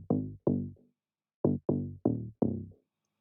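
A soloed, filtered band of a melodic bass in a dark club mix plays as short plucked notes: two hits, a pause, then four more, with each note decaying quickly and nothing else sounding.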